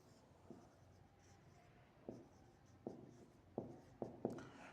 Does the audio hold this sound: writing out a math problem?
yes